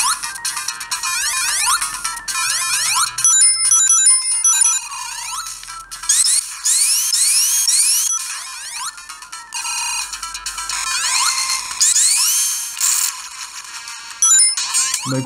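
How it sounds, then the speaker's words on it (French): Sonic game audio from a tiny Bittboy v2 handheld console, bright chiptune music with rapid beeping melodies and sweeping sound effects, playing continuously and fairly loud. "on va essayer un petit peu Sonic"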